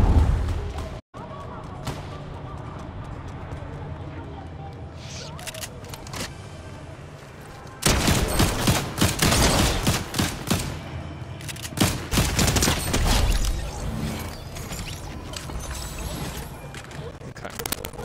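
Rapid bursts of gunfire from a Fortnite match, loud and close, with a brief dropout early on, then a dense stretch of sustained firing and booms, thinning toward the end.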